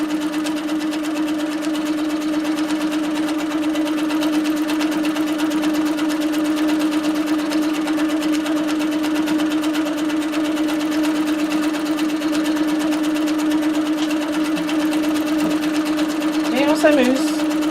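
Baby Lock Tiara II sewing machine running continuously, a steady whirring motor drone with a rapid even stitching buzz, close and constant, with a short squeak near the end.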